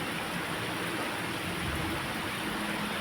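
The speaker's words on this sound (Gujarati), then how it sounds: "અડધો કિલોમીટરથી આગળ તો કંઈ દેખાય એવું જ નથી, એટલો ખૂબ વરસાદ છે." Heavy monsoon rain pours down in a dense, steady hiss with no breaks, loud and even throughout, with no voices over it.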